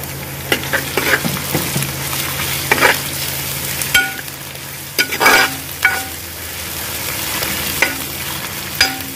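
Tomatoes frying loudly in a clay pot for village-style chicken pulao, a steady close sizzle broken by several sharp stirring scrapes against the pot, with no talking.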